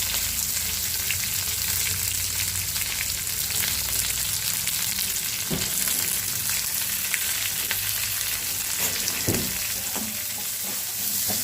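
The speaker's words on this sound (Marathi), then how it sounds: "थोडंसं लसूण आणि थोडंसं कांदा उभा कट करून घेतलेला आहे, ते त्याच्यामध्ये मी तेलामध्ये घातलेलं आहे" Minced garlic and lengthwise-sliced onion fry in hot oil for a potato bhaji, making a loud, continuous sizzle close by. A couple of brief spoon knocks and scrapes cut through, and no one talks.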